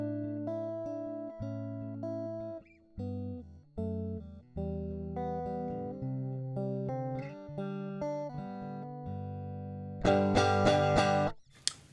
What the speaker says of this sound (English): this is the sound of my electric guitar going straight into the audio interface